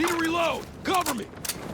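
A weapon reload in the Battlefield 6 campaign gives a brief sequence of mechanical clicks and rattles close up, heard under a soldier's shouted voice.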